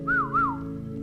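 Eerie whistling attributed to El Silbón, the ghost of Colombian legend: two rising-and-falling whistled phrases, clear and fairly close, over a steady low drone, trailing off into quiet.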